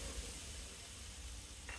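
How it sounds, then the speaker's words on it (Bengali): Potato and pointed gourd pieces fry in a little oil, giving a steady, soft sizzle throughout with a faint scrape of stirring near the end. "এবার আমি আলু আর কাঁকরোল একসাথে ভেজে নেব"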